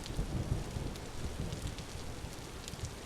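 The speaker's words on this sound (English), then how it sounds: "This thunderstorm is crazy." Thunderstorm with steady heavy rain in the survival game Vintage Story, a dense broadband downpour with low rumbling thunder underneath, continuous and fairly close throughout with no talking.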